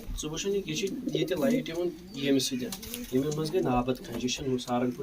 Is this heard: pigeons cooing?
yes